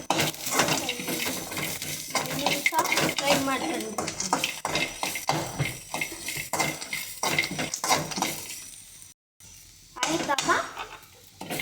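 Peanuts being fried and stirred in a pan, with steady scraping and clinking of a utensil against metal running through the whole stretch, partly under speech and background noise.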